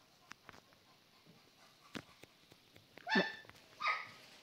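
A dog barks twice in a video game, two sharp, fairly close barks about a second apart that follow a stretch of faint clicks and ticks.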